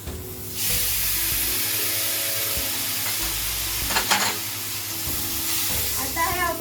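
Mint and coriander paste sizzles and fries steadily in a hot pan, a continuous close hiss with occasional stirring scrapes and a brief burst of sharper crackle midway.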